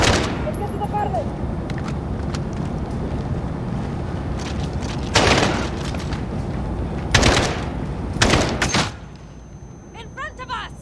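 Video game gunfire from a Modern Warfare campaign mission erupts in repeated bursts and heavy shots, with loud cracks standing over a constant rumble of battle noise and shouted voices.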